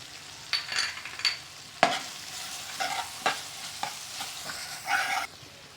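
A spice masala mixture for brain masala is stirred in a pan while it cooks, with a soft background sizzle. Scraping strokes and a few sharp utensil clinks sound at uneven intervals, and nobody speaks.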